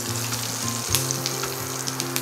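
Capsicum and onion fry in hot oil in a pan, giving a close, continuous sizzle with a few sharp crackles and no talking.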